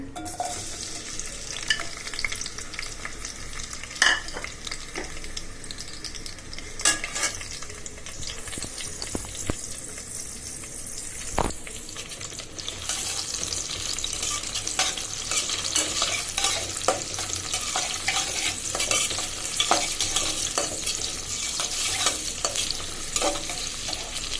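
Onion, garlic and green chili frying in oil in a cooking pot, a continuous sizzle that grows louder partway through, with occasional sharp clanks and scrapes of stirring, close and without speech.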